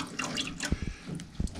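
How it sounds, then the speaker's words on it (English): Water dripping from an antique 1921 clothes wringer back into a pan below, a few soft irregular drips and splashes over a faint watery background, close by with no talking. "See down here the water dripping out of it back into the pan?"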